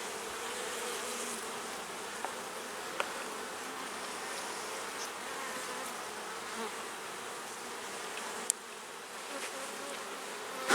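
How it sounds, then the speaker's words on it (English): A dense, continuous buzz of a large mass of honeybees in an open hive fills the air, steady and close, with a few faint clicks and taps scattered throughout. "Good amount of bees in this hive, eh?"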